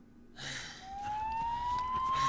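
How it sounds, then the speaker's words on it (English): A rising siren wails in a Minecraft horror custom map game, a steady tone climbing slowly in pitch over a noisy rumbling backdrop, growing louder toward the end with no talk. "Okay, sirens. Not good."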